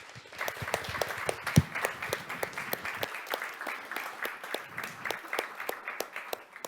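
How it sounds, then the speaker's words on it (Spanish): An audience applauding at a talk on alien poetics and politics, with dense, steady clapping that holds its level for several seconds and sounds close and full throughout. "Así que con todo esto, un fuerte aplauso para Michel y a disfrutar."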